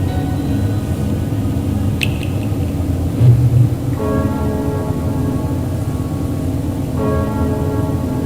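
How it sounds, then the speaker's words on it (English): The Crossbell bells in the video game Trails of Cold Steel 3 ring out in two clear peals over a low rumbling background, each a sustained chime that slowly fades. "Man, these crossbell bells gotta be destroyed, bro."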